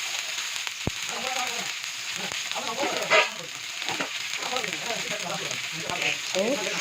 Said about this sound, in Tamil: எல்லா மீனும் ஃப்ரை பண்ணி எடுத்துக்கலாம்